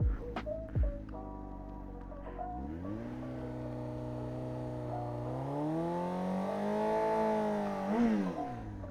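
Motorcycle engine revving steadily and loudly during a first burnout attempt, pitch rising and holding for several seconds with a brief dip near the end, after a few short blips at the start.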